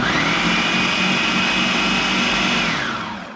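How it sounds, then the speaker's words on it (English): A kitchen blender purees plantains with a loud, steady, close whir that holds evenly for several seconds before tapering slightly at the end, with no talking. "So the first thing I'm gonna do is I'm gonna blend this up."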